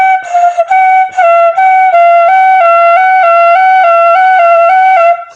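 A voice imitates an ambulance siren, a sustained whistled or sung two-tone wail that alternates evenly between a higher and a lower pitch for several seconds, loud and close.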